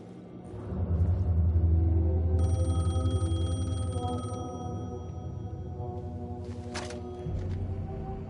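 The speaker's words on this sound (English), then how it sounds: "phone was ringing" A telephone bell rings in the video game Alan Wake 2, a sustained ringing tone over a deep low rumble, moderately loud and without speech.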